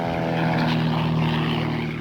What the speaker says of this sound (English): Those World War II planes